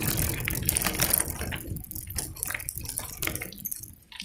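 Creek water flowing beside a hillside road, a steady broadband rush and trickle that swells and fades while the camera moves along, fairly close and without talk.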